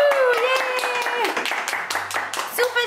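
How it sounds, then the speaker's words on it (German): A family claps for Jill at home after a schnitzel meal, a handful of hands giving sharp, uneven claps close by while voices whoop and talk over them. "Okay, einmal Applaus."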